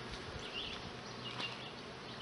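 Honeybees buzzing around an open hive during a beekeeping inspection, a faint, steady drone of many insects close by with no talk.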